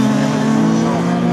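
Class 9 cars in a ladies' dirt-track heat at Scunthorpe give a loud, continuous engine drone with a steady low tone, a close, unbroken roar filling the whole moment.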